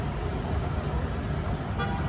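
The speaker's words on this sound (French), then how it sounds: "Ils arrêtent pas de klaxonner tout le temps." Busy street traffic in Turkey roars steadily while a car horn toots briefly near the end, under constant road noise.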